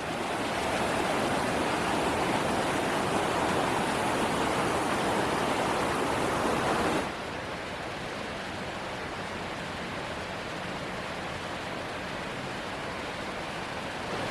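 Roaring Creek river rushing below a suspension bridge, a continuous loud wash of water that drops abruptly to a quieter but still steady roar about halfway through, with no speech.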